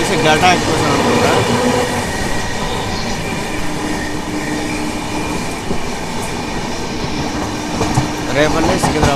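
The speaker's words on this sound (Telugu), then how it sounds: "రేపల్లి సికింద్రాబాద్ గల్టా ఎక్స్ప్రెస్ ట్రైన్ ఇది" The Repalle–Secunderabad Galta Express rushes past close by with a heavy, roaring rumble, rattling wagons and intermittent wheel squeal, the noise swelling again near the end.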